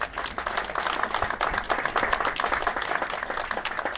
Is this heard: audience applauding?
yes